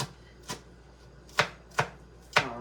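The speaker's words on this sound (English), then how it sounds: "So I'm just chopping that green onion down." A knife chops green onion for homemade pico de gallo on a cutting board, five crisp, close knocks spaced irregularly, with no talking.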